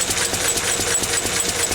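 A Lister stationary engine running steadily with a rapid, even mechanical chatter, loud and close, with no pauses across the clip.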